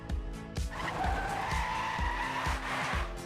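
Racing video game audio of tires squealing through a drift, a sustained screech with repeated low thumping pulses underneath and no engine noise, loud and continuous.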